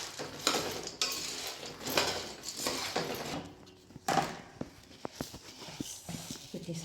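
Dal, makhana and cardamom powder dry-roasting in a pan over medium heat, heard as quiet scraping and intermittent clinks of a spatula against the pan, some sharp and close, with pauses between.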